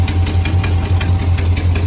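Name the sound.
88 Monte Carlo SS engine idling after cold start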